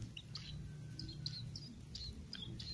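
Bar-winged prinia chicks in a nest give thin, high chirps in short scattered bursts, fairly faint over a low rumbling background with no talk.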